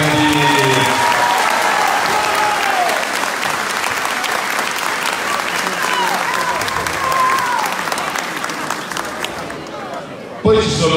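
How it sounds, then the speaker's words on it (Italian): A crowd at a political rally in Nuoro, Sardinia applauds loudly and steadily for about ten seconds, dense clapping with voices mixed in, before it cuts off. "quindi fatemelo da soli un applauso"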